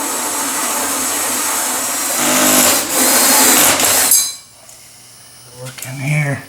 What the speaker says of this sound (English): So step one here is to drill a hole through this wall.